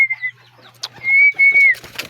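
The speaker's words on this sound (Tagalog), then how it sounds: "Papasukin natin mga kalapatids." Pigeons give a few soft, close coos amid light rustling and faint flapping, with brief pauses between calls in a quiet setting.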